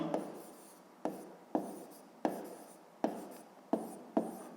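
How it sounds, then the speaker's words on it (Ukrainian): Pen or pencil writing out a fifth-grade math solution on paper, seven repeated scratchy strokes in a steady rhythm, close and fairly quiet with no talking. "Спочатку давайте запишемо, а яку кількість тістечок з'їдає Карлсон за те годин"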